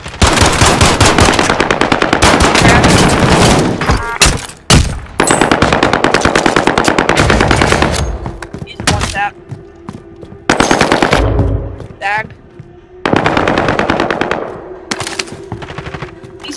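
Loud, close machine-gun fire in a multiplayer video game, long sustained automatic bursts broken by brief gaps, then shorter volleys toward the end, with no talking over it.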